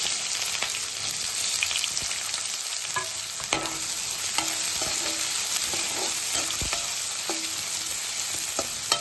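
Thinly sliced onions with cloves, cardamom and bay leaf fry in oil for aloo methi masala curry, giving a constant close sizzle broken by scattered spatula clicks and scrapes against the pan, with no speech.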